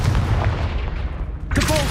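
A Confringo spell cast in Hogwarts Legacy lands as a loud, booming blast, followed by a sharp explosive crack near the end of the short burst.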